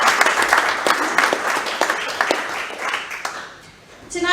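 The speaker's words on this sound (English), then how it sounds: "Let's give Simon a round of applause." A room full of people applauds steadily for a few seconds, the clapping fading out before a voice starts again.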